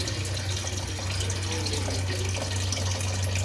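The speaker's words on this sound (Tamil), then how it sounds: "அது போகிற வரை நான் வாஷ் பண்ணிக்கிட்டே தான் இருக்க போகிறேன்" Tap water runs steadily while soaked grains are washed by hand, a constant close splashing hiss with no pauses.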